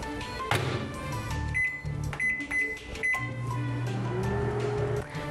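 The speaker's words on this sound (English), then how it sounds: "then microwave it on high for 2 minutes to dissolve the brown sugar and kosher salt" A microwave oven runs on high, heating a brown sugar and kosher salt brine under plastic wrap: a continuous mechanical hum with a few short electronic tones near the middle.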